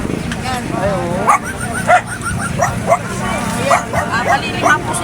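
Rescued half-breed dogs, Labrador and husky mixes, give repeated yips and short barks near at hand, mixed with whimpers, while people talk over them.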